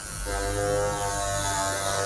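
A Philips OneBlade electric trimmer runs with its blades pressed against an inflated balloon, giving a steady, close, continuous electric buzz with a strong hum that holds level throughout.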